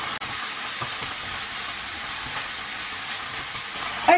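Wilted cabbage sizzles steadily in a pan while being stirred for an Indian cabbage and peas dish, a constant close hiss with a few soft scrapes and a brief clatter near the end.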